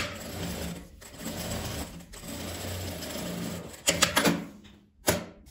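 A sewing machine runs continuously while stitching fabric down, with a few sharp mechanical clicks and knocks near the end as the work is handled.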